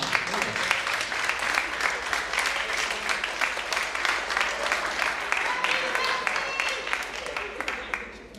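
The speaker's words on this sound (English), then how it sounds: "So give them a round of applause" Audience applause at a school world percussion spring concert, dense steady clapping filling the room throughout, with some cheering and voices mixed in.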